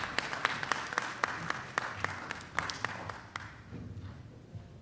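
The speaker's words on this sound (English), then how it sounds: "Please give one more round of applause with gusto, people, for this fantastic panel discussion" Audience applause for a community data and policy panel, a steady round of clapping with sharp individual claps standing out, gradually thinning and fading to near silence after a few seconds.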